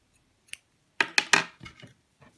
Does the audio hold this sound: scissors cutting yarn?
yes